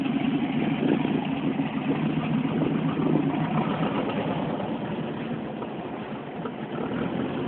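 A Volkswagen Beetle (Fusca) engine runs steadily at idle, a continuous rough mid-low drone with a slight swell in the first seconds, heard close and alone with no talk.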